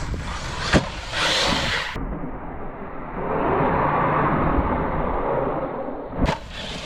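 Arrma Kraton 4S RC car tearing through dry leaves outdoors, a steady broad rustling rush with short sharp motor whines at the start and end, fairly close and alone with no talk.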